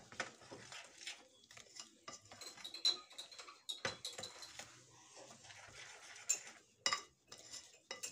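A utensil stirs biscuit dough with added flour in a bowl, making soft scraping sounds with sharp intermittent clinks and knocks against the bowl, close and quiet, uneven in rhythm.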